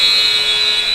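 The game-end buzzer at a basketball game sounds as one loud, sustained, piercing electronic tone that fills the whole moment.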